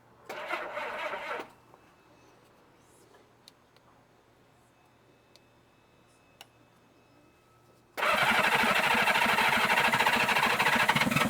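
Old Honda Goldwing motorcycle engine after a shot of ether: a brief cranking burst, a quiet pause with faint ticks, then the engine catches and runs at a loud, steady idle to the end.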